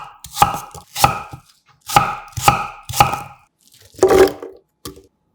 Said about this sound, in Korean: 입안을 개운하게 정리해줄 생강 엄지 천마디 크기 1개는 얇게 편 썰어 담고